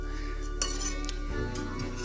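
Crisp potato pancakes with bacon are lifted from small frying pans on a kamado grill, giving a few close metallic clinks and scrapes of utensil on pan over a steady low background hum.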